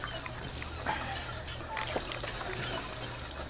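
Drinking water in the video game Fallout 4, heard as a steady, close pouring and trickling wash that runs continuously for a few seconds, with faint gulping blips.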